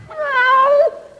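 A single drawn-out cat meow rises and falls for most of a second, heard alone as a sound effect in a 1941 Burns and Allen radio comedy.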